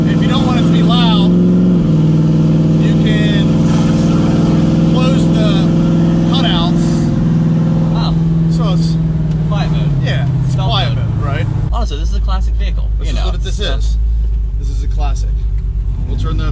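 Loud, continuous low exhaust rumble from a classic muscle car with its loud exhaust mode switched on, droning steadily with shifts in pitch as it revs, while people talk over it throughout.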